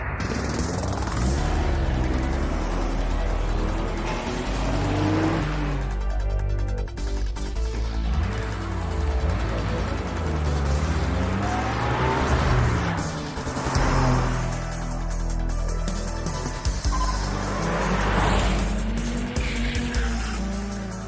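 Cars accelerate and race through corners in the Initial D arcade game, engines rising and falling in pitch with repeated tire squeals and skids, loud and continuous over music.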